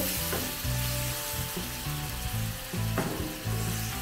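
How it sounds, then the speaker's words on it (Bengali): Prawn roast being stirred in a pan after water is added, a steady close sizzle with repeated scraping stirs and a strong low musical hum running underneath throughout. "এবার দিয়ে দেবো এর মধ্যে একটু জল। জলটা দিয়ে ভালো করে মিশিয়ে"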